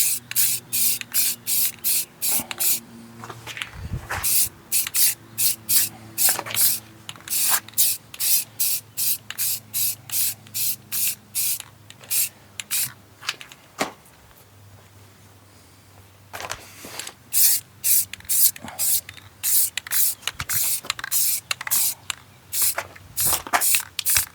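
An aerosol can sprays a light first coat of paint onto the alloy wheel of a 2011 Ford Fiesta. It comes in loud, close bursts of varying length with short pauses between them and one longer break in the middle.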